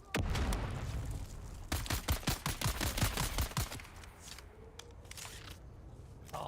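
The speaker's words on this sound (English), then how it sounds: "Oh, I do have my SMG." SMG gunfire in the video game Dune Awakening, rapid bursts of sharp automatic shots fired close and loud, several quick volleys then trailing off into quieter ambience.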